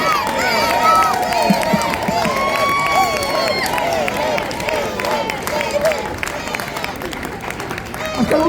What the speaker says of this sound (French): un tonnerre d'applaudissements pour Hélène Rollès, notre invitée exceptionnelle cette année